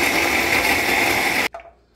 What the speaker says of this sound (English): So let's grind up this ginger